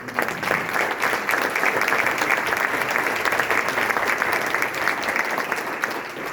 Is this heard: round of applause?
yes